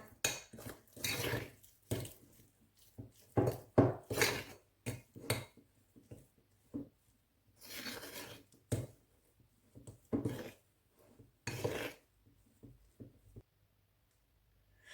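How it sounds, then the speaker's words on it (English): Sausage meat worked together in a bowl before going into an air fryer: a series of short clinks and scraping clatters from utensil against bowl, arriving in uneven bursts separated by near-silent pauses. "Now, mix these together, the sausage meat"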